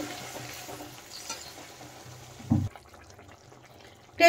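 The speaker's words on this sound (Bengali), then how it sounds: "এখন আমি দিয়ে দেব সামান্য জল, খুব সামান্যই দিয়েছি।" A small splash of water hitting a pan of frying bean shells cooked with mustard, a brief hiss and sizzle over a faint background, then a louder sharp burst near the end.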